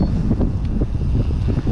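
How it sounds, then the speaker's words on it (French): Strong wind roars and buffets against the microphone in loud, gusty rumbles. "Il y a un vent terrible."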